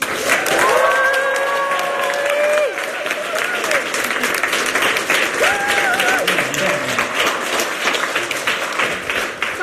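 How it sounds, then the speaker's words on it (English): An audience at a presentation bursts into loud applause and cheering, with shouted voices standing out at first, then settling into a steady wash of clapping. "the loudest, biggest applause you can imagine is actually from Italy"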